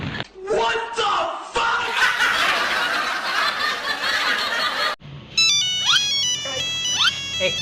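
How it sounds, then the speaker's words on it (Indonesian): A phone's electronic ringtone chimes in repeated melodic bursts near the end, after a stretch of loud laughter and chuckling from several people close by. "Telepon, siapa telepon?"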